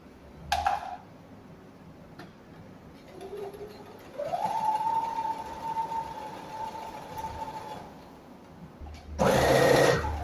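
A sewing machine runs a short, steady burst of stitching on a pleated skirt, faint and close, with a whining hum lasting several seconds between quieter handling noises.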